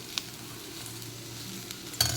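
Ivy gourd (dondakaya) tempering being stir-fried in a pan gives a steady, soft sizzle with occasional scraping stirs and a louder clink near the end, heard alone without talk.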